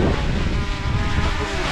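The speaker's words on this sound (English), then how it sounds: "it's a little windy, isn't it, Brandon?" Wind gusts across a microphone outdoors at a homesteading expo, a loud, steady rumbling buffet with no talking.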